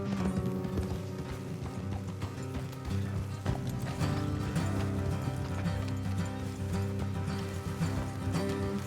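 Horse hooves clip-clop in a steady rhythm in the video game Red Dead Redemption 2, with a continuous musical and ambient background underneath.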